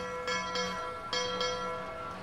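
A bell rings in the VR climbing game The Climb, struck about four times in a steady, sustained peal with long ringing overtones. It sounds clear and fairly loud, and nobody speaks.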